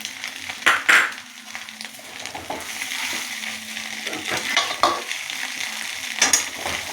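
Peas and mixed vegetables stir-frying in a pan for fried rice, with a loud continuous sizzle and frequent scraping stirs and spatula clanks close by.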